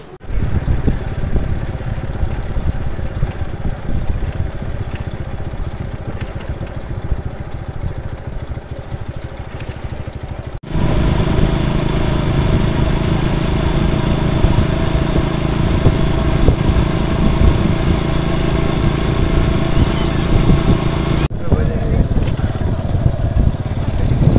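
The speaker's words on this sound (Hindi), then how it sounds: "मोटरसाइकिल भी हमारा तैयार हो गया जी चलते हैं जी" A motorcycle engine runs continuously with a rattling, clattering drone, growing louder partway through, with faint voices now and then.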